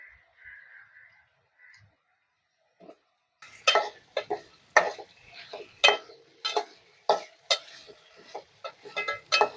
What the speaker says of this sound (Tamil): இப்போ இதில் வந்து குழம்புல எண்ணெயில் போட்டு வதக்கிடலாம்.